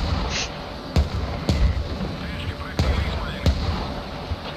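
Mortar rounds land in a video game battle, four sharp booming impacts spaced about a second apart over a rumbling noisy backdrop, punchy and mid-distance, with voices talking faintly underneath.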